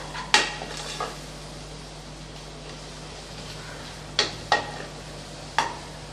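Tomatoes cook down in hot oil for vegetable biryani, a low steady sizzle running throughout with a few sharp clinks of a spoon against the pan near the start and toward the end.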